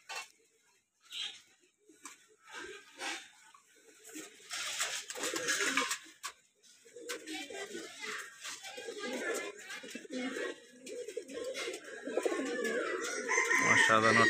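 Pigeons in a loft newly set up for pairing give soft cooing and bird calls amid a busy mix, with voices talking over much of it and activity building toward the end.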